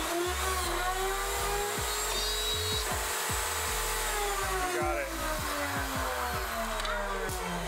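A pocket hole cutting machine bores into clamped wood with a steady, loud whirring grind and rhythmic cutting strokes, continuous throughout and close by.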